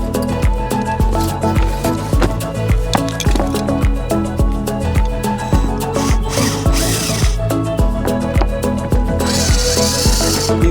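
A power tool drives stainless steel screws on a sailboat, giving loud, close bursts of rapid whirring and rattling in a steady repeating rhythm.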